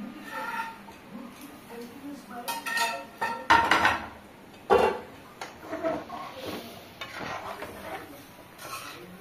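Boiled potatoes go into a pot of simmering mutton curry and get stirred in, with clanking metal spoon knocks against the pot and scraping stirs, a couple of loud close clanks midway, over a low cooking hiss.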